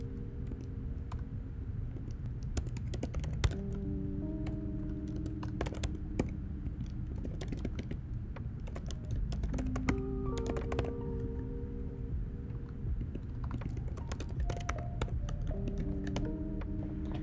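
Keystrokes on a computer keyboard while JavaScript code is typed, a steady run of close, crisp clicks in quick bursts with brief pauses, over a low background hum.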